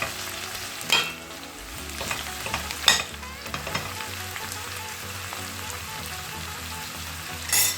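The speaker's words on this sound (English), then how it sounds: "Move it around in the pan." Onions fry in a pan with a steady sizzle while being stirred, with occasional louder scrapes and clatters of the utensil against the pan, close and clear with no talking.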